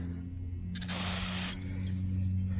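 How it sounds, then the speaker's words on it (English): A single short burst of aerosol cleaner sprayed on small bolts from a sailboat diesel engine, close and hissing for under a second, over a steady low mechanical hum. "spray a little cleaner on them"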